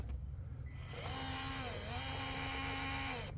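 A Traxxas TRX4m RC crawler with a brushless motor whines as it drives, a thin high-pitched tone that rises, dips and climbs again over a low background rumble.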